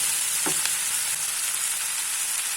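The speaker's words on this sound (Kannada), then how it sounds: "ಇದನ್ನೀಗ ಚೆನ್ನಾಗಿ ಹುರಿದುಕೊಳ್ಳುವ ಈ ಎಲೆಯ ಡಾರ್ಕ್ ಕಲರ್ ಗ್ರೀನ್ ಬರಬೇಕು" Sambrani (Indian borage) leaves frying in a pan with garlic, a steady close sizzle throughout with a brief stirring scrape near the start, no voices.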